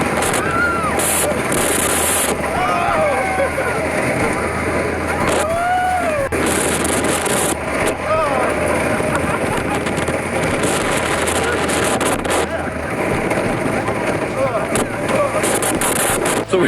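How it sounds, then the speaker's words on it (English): Riding the Gold Striker wooden roller coaster: heavy wind buffeting and rumbling track noise, with loud bursts of riders screaming and shouting throughout. "I feel like this is the fastest wooden coaster I have ever been on"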